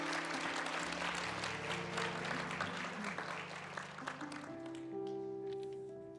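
Audience at a school graduation ceremony applauds warmly, sustained clapping heard from within the hall while organ-like sustained tones play underneath, gradually thinning toward the end.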